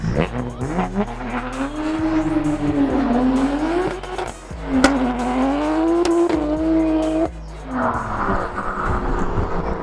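A 500+ kW BMW 135 race car screams past with a loud, rising and falling engine note and squealing tires, the sound sweeping through in waves before dropping away.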